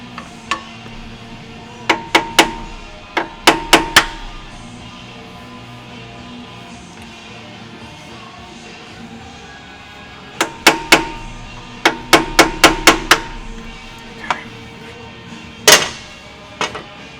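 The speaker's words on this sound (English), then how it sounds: "Pecking hammer." A pecking hammer strikes metal during injection pump replacement on a Gehl RT210 with a CP4 pump, in sharp bursts of several quick blows separated by quiet pauses, with a few single hits.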